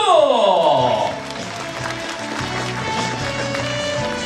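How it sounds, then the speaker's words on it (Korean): Citizens attending a book-launch event in Yeosu applaud as a crowd, a dense steady wash of clapping that swells in after a brief musical passage fades, with voices mixed in. "오늘 오신 우리 시민 여러분께 박수!"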